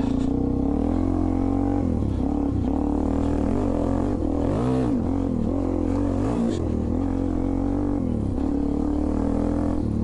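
Suzuki DR-Z400E dual sport motorcycle engine running steadily and loud throughout, with rising and falling pitch as the rider changes gears and revs, plus a brief throttle swell in the middle.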